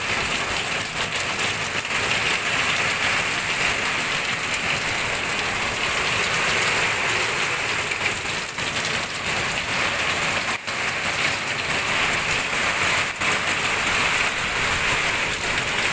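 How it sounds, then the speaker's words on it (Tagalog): Heavy typhoon rain pours without pause on roofing and surfaces, a dense, loud, continuous roar with scattered sharper drops and no talk. "Grabe yung buhos ng ulan."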